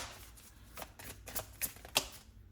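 Tarot cards being shuffled make a few quick riffling bursts close up, soft and brief, ending in a sharper snap near the end, with no talk.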